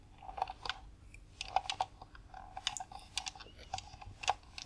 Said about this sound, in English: some of these clicking sounds might be a little too harsh